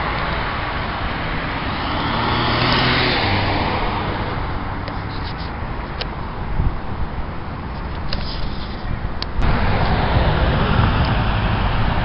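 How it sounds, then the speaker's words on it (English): Steady rush-hour road traffic on Route 123 at East Main Street in Norton on a Monday evening, with cars and buses passing continuously at moderate distance and a brief sharp knock near the end. "The usual rush hour traffic here in the town of Norton here on this Monday evening here."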